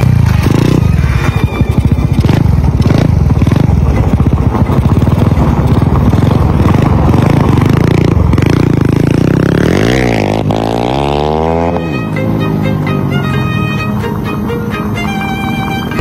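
Engine of a Smash 57 motorcycle with a touring exhaust, revving loudly and steadily up close, with a low, rough idle that climbs into a rising, sweeping rev toward the end.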